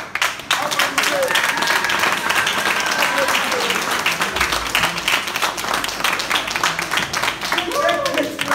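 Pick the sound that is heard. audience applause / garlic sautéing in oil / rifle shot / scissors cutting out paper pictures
audience applause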